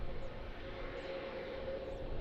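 An aircraft departs at Lisbon Airport with a distant, steady jet-engine roar. The sound is faint and broad, with no sharp events.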